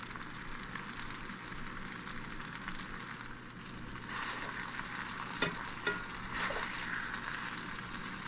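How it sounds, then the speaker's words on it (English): Quiet, steady sizzling of chicken frying in a pan, a continuous crackling hiss with a few small pops, heard close with no talking. "it's just ever so slightly starting to sizzle in the pan here"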